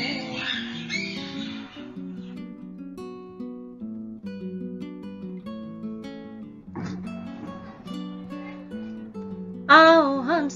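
A parrot lets out a short run of bright, squawking cries near the end of a children's song with singing and music. The squawks sound louder than the melody under them.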